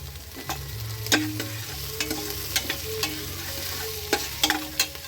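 Curry leaves tossed into sautéed onions in a pan for duck curry, giving a steady close sizzle with sharp spatula scrapes and clinks repeating every second or so, no voices.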